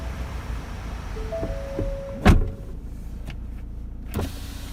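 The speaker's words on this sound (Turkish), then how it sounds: "Camımızı açalım" Power window of a Ford Transit Custom van opening, a faint whirring motor hum under the low idle of the engine, ending in a sharp thump as the glass stops.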